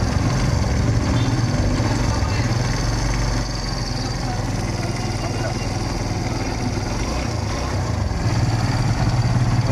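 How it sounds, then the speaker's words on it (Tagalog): A noisy motorcycle engine idles steadily and loud for the whole stretch, a constant low rumble with a rattling edge that began after the bike was kick-started once. "Ayan, maingay po yung kanyang makina."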